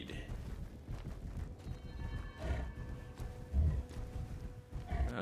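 Clip-clopping hooves of a spamel mount galloping in Star Wars Jedi Survivor, a steady rhythmic trot with occasional snorting calls and louder footfalls, close and moderately loud over a busy background.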